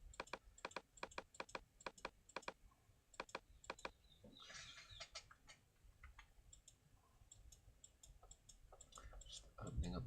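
Bracket keys on a computer keyboard are pressed repeatedly in quick, even runs of sharp clicks while a Photoshop CC 2017 brush is resized, with a softer burst of clicks and a faint voice later on, all fairly quiet.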